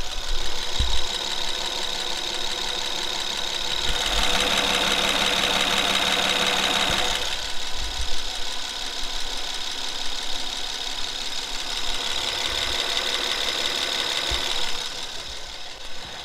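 Honda engine idling after a rocker shaft repair done to cure a ticking noise when warm, a steady close mechanical hum with light rhythmic ticking and a louder stretch partway through, no talking.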